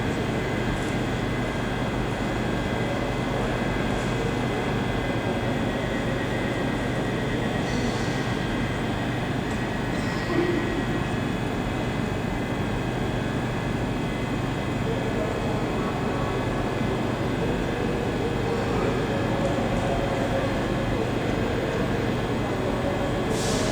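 Trains at Glasgow Central station, including a Scotrail Class 380 and a Class 390 Pendolino, giving a steady loud idling engine hum and ventilation drone under the station roof, continuous throughout.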